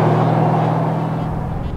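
A 2015 Mercedes-Benz S63 AMG Coupe, its 577-horsepower engine giving a loud, close, steady low rumble that fades slightly over a brief moment, alone without talk.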